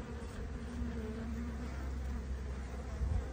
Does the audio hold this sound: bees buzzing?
yes